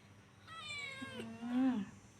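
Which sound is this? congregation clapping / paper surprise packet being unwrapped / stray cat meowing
stray cat meowing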